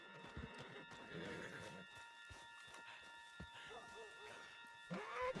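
A horse in the Red Dead Redemption 2 video game gives a faint whinny while its hooves clip-clop at a walk, with scattered game noises and low, soft voices underneath.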